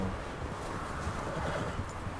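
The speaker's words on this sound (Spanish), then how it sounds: "se nota cuando el caballo entierra las patas en la nieve" Horse hooves sink and crunch through deep snow in the video game Red Dead Redemption 2, a steady soft trudging texture with faint horse sounds, heard alone without talk.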